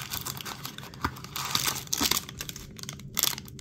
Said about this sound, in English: Just gonna rip it open.